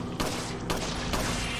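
Explosions and bursts of gunfire ring out in Resident Evil 4, dense and loud, with sharp blasts near 0.2, 0.7 and 1.1 seconds over continuous combat noise.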